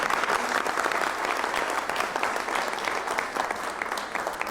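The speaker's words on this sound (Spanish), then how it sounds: "Un aplauso, por favor." Seminar audience breaks into steady, loud applause, a thick wash of many hands clapping continuously throughout with no pause.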